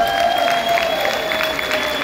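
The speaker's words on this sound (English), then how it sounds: "A round of applause, please." Audience applause at a tamburitza music festival in Pittsburgh, greeting an orchestra: steady, dense clapping from a crowd that holds at an even level, with a faint sustained tone underneath.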